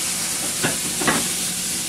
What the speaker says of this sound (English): You can see it like sizzling away.